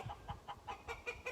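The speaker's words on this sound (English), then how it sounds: "Luckily, the chickens are all going to make some noise now, which is cool." Chickens cluck in a quick, rhythmic series of short calls, fairly faint and close together, with no talking.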